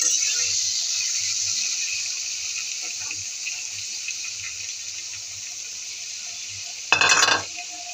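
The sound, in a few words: stirring mango pickle in hot mustard oil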